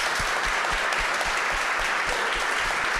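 Audience applause for Eggshells at a live event at Art Basel Miami Beach, a steady, even patter of many hands clapping, moderately loud and unbroken.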